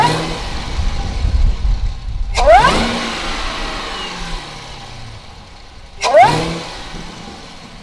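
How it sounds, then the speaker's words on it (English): A Camaro ZL1 with a Corsa cold air intake gives two sharp revs a few seconds apart. Each rises fast with a rising supercharger whine and then falls back to a low idle rumble between them. "Time for some revving up supercharger whine,"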